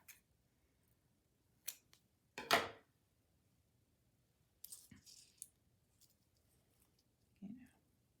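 Scissors snipping through paper to cut it in half, a few short, crisp cuts heard close and quiet in a still room, separated by pauses.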